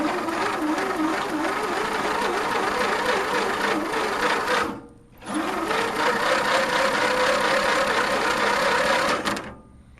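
Mastercraft race tractor engine cranking over on the starter, a loud steady whirring churn that cuts out briefly near the middle, then resumes and spins on without firing.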